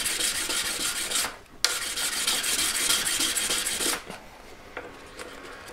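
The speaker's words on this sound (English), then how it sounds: "So I'm changing the angle at which I'm buffing." A 600 grade buff stick rubs briskly back and forth on platinum, a close, rasping scratch in steady strokes with short pauses near 1.5 and 4 seconds, quieter at the end.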